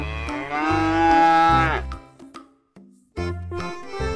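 Cows being loaded onto a toy truck give a long, loud, tonal moo, then a short gap and a second moo that is cut off, all close by with no talk.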